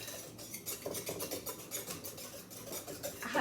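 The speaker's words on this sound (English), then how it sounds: "Now we're going to whisk this together. This is our wet ingredients." Wet cake batter for a ricotta chocolate chip cake is whisked by hand in a bowl, a steady run of quick scraping and clinking strokes, close and fairly loud with no talk.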